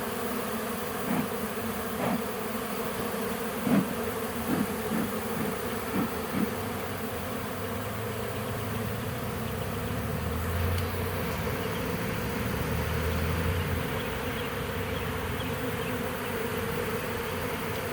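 Swarm of gentle honey bees buzzing around a hive while smoke is used on them, a constant dense drone, fairly faint, with a few soft knocks early on.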